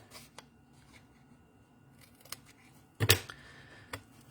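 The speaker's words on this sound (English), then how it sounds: "You're going to cut up to the score lines." Scissors cutting paper up to score lines while making a simple box from a paper craft kit, with a few quiet snips followed by a louder crisp cut and a final snip, close and alone.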